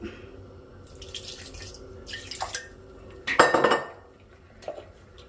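A mixer jar being washed at a kitchen sink, with clinking dishes and running tap water, a louder splash of water poured in midway, fairly close and without talk.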